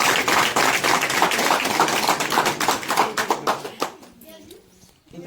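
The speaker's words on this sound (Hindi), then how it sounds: "तो एक कुछ बहुत जोरदार ताली" Applause from NSS volunteers and an audience at a government college campaign event, a dense burst of many hands clapping together that thins into scattered claps and fades out within a few seconds.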